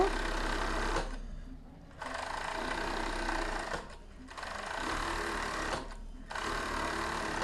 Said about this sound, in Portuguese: passando a overlock aqui, ó, sem comer a sua reta